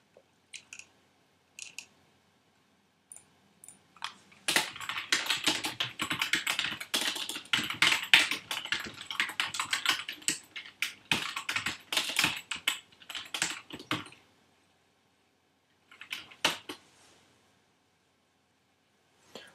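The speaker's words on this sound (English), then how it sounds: "I can just type it in as a string." Code being typed on a computer keyboard: a few isolated key taps, then a long dense run of rapid, close clattering keystrokes, and a short final burst after a pause.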